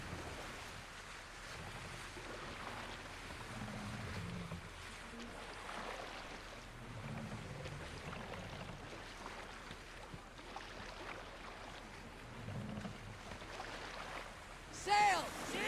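A Viking longship under sail in Assassin's Creed Valhalla, carrying a steady wash of ocean waves and wind across the water with faint creaks, broad and continuous, ending in a brief louder burst.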